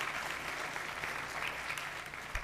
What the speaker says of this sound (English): And one more round of applause for Tina,